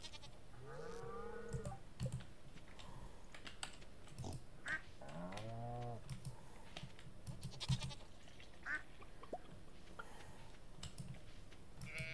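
Sheep in the Stardew Valley farming game give two clear bleats close together early on, then fainter, shorter ones. Keyboard clicking and light tapping run underneath.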